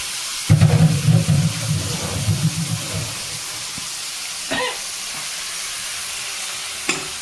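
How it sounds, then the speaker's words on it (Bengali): Chicken meat for butter chicken hits a hot wok and sizzles loudly for about three seconds, then settles into quieter frying with a few clatters of stirring; no talking. "কড়াইতে আমি দিয়ে দিলাম মাংস"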